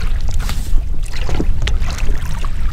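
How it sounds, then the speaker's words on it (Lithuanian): A Kalibri 220 inflatable boat on its first outing for fishing moves across the water, with close, irregular splashes and sloshing strokes over a few seconds and no talking. "Pirmas pasiplaukiamas su šita valtelė."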